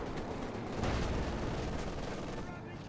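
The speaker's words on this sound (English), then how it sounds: "Oh, calling an artillery strike." Rolling artillery strike in the World War II strategy game Company of Heroes 2, a dense rumble of overlapping blasts with a swell in the middle, with game commentary partly mixed in.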